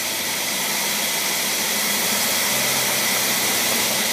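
An engine fitted with a Motorcraft single-barrel carburetor runs with no load, giving a loud, steady, dense roar that holds unbroken throughout, with no voices.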